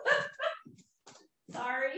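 A dog barks a few times in a domestic room, short sharp yaps standing out in brief bursts with gaps of quiet between them.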